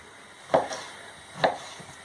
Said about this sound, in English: I like to cut the meat a bit bigger pieces.